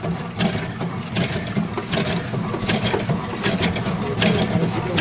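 A batasa sugar candy making machine runs continuously, its gears and ratcheting mechanism rattling and clicking in a dense, steady mechanical clatter at a fairly loud level.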